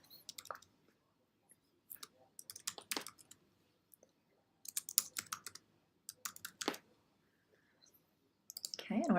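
Sharp computer mouse clicks come in short irregular bursts, single and double, with quiet gaps between them, heard close up while a Christmas present-shaped card design is edited in Cricut software. No one speaks.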